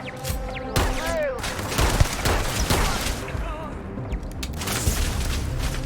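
Laser gun firing in Starfield, a rapid string of sharp, punchy shots with booming impacts and swooping whine effects, loud and close amid ongoing combat noise.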